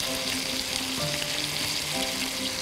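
Milk and melted cream heating in a pan for mushroom chicken give a steady, close sizzle and soft bubbling throughout, with no one speaking.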